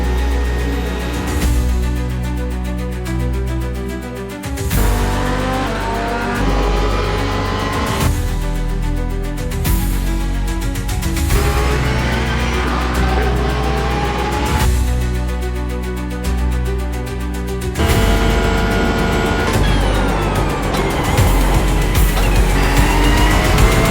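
Race car engine roar from sim racing gameplay, loud and continuous with repeated rising and falling revs through gear changes and tire squeal, the engine dominating throughout with no talk.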